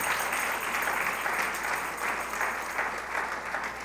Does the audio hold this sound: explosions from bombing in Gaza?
no